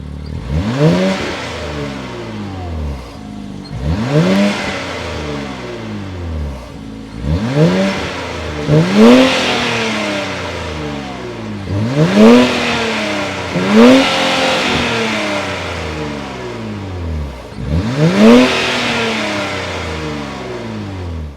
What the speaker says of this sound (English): that was the sound of the 3-liter twin-turbo V6